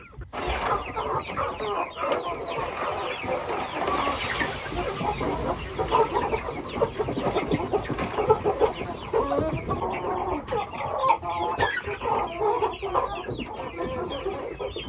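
Young meat bird chickens, fresh from a rural farm store, cluck and chirp in a busy, continuous chorus of overlapping calls, close by and moderately loud, with no talk.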